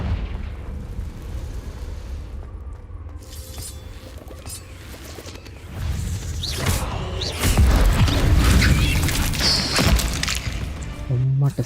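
The Confringo blasting spell going off in the Hogwarts Legacy video game: rumbling, crackling explosive bursts that swell louder midway and stay heavy, with game effects layered and a voice talking at points.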